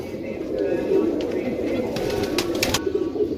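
Pigeons coo repeatedly in a loft in Gujrat, soft low murmuring calls close by over a steady background, with a few brief sharper sounds near the end.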